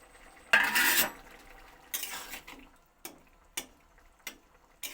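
A pan lid clatters open over boiling potatoes in a home kitchen, a loud metallic rattle followed by softer scraping and a few sharp, separate clinks, each standing alone in a quiet room.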